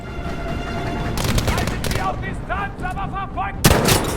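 Gunfire from the video game Battlefield 5 rattles in repeated bursts under a voice and other game sounds, ending with a loud sharp blast.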